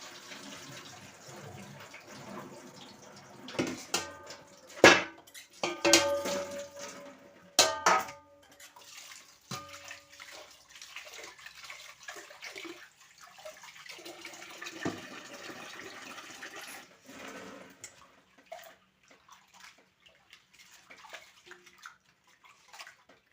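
Water sloshes and splashes in a bowl as white urad dal is rubbed by hand, with bursts of swishing and clinking followed by quieter swirling.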